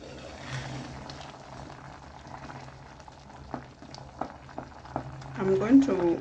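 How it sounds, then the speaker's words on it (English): Tomato soup bubbles in a covered pot, a low soft burble with scattered small pops that grows busier toward the end, with a voice talking over it. "Bring this to a boil and let them cook for the next 10 minutes."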